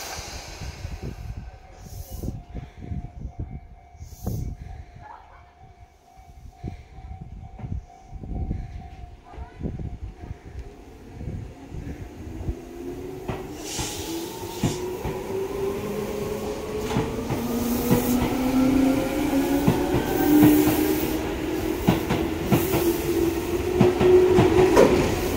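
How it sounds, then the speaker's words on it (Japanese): A Japanese Tobu 10030 series electric train rumbles and clacks along the rails, departing from a station platform, its motor whine rising steadily in pitch as it pulls away and gathers speed. "まもなく3番線列車が動きます。"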